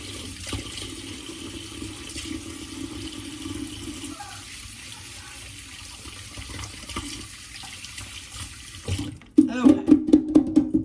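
Tap water running into a sink as fingers are washed, a steady rushing flow that drops out near the end, then a louder burst of water splashing. A voice is heard briefly.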